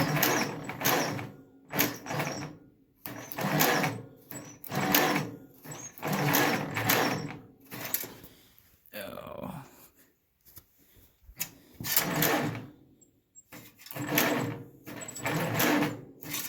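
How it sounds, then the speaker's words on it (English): Weak starter motor on a tractor in the cold, cranking in repeated laboured bursts that slow and stop, then try again, each a few seconds long with quiet gaps between, close and loud. "Highly doubt that it's going to crank over with the starter because the starter in this thing's weak"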